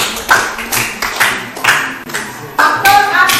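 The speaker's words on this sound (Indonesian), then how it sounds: "Tepuk tangan dulu." Students applauding in a classroom, uneven bursts of close hand clapping with a few taps and faint voices.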